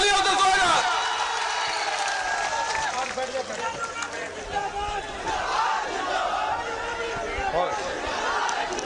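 Political rally crowd cheering and shouting to welcome Tejashwi Yadav in Hasanpur, a dense continuous roar of many voices with whoops and some clapping, close and sustained throughout.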